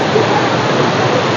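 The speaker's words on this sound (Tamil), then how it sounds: "மழை பெய்யறது இங்கேயுமே நமக்கு வந்து அப்படியே தெரிக்குது." Steady, dense roar of rain mixed with waterfall spray at Athirappilly falls in Kerala, a continuous broadband wash close by with no gaps or distinct events.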